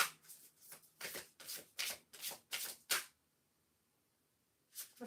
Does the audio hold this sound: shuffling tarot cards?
yes